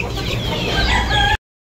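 Chickens cluck and a rooster crows nearby on a farm, a busy overlapping chorus of fowl calls that cuts off abruptly into silence.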